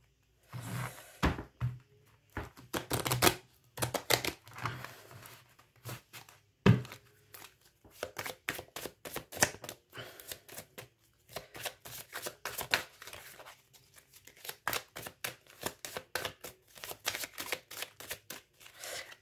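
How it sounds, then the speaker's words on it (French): Tarot cards being shuffled by hand, giving a long series of crisp riffles and slaps in irregular bursts, close and fairly quiet, with no speech over them. "Je vais essayer de mélanger un peu mieux les cartes parce que là, je trouve que elles sont pas assez mélangées."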